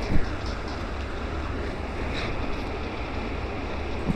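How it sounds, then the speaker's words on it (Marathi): A paratha fries in oil on a pan with a steady, close hiss and sizzle throughout, holding an even level without pauses. "तेल घालून हा पराठा असा मस्त खरपूस भाजून घ्यायचा आहे."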